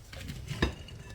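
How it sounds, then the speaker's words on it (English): Soft scraping and clinking of a utensil stirring orange and lemon zest in a bowl for fruit cake, faint and close with one slightly louder knock, no talking. "So now I'm just going to mix all this stuff up here."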